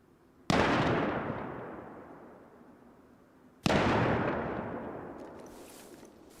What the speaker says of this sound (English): I don't know how he can see me, but he's shooting at me.